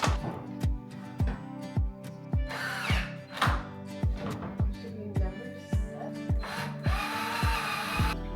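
A power drill drives screws into wood panels during a cottage kitchen build, with a steady run of repeated short bursts about every half second, loud and close, the motor whirring and the wood knocking with each pulse.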